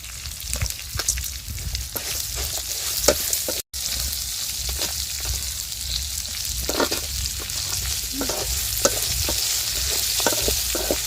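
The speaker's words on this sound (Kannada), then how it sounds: "ಈಗ ಸ್ವಲ್ಪ ಎಣ್ಣೆಲಿ ಚೆನ್ನಾಗೆ ಕಂದು ಬಣ್ಣ ಬರೋವರೆಗೂ ಹುರ್ಕೊಬೇಕಿದ್ರು" Garlic, coconut and curry leaves frying in a little oil until brown, a steady close crackling sizzle running throughout with repeated scraping stir strokes and scattered sharp pops.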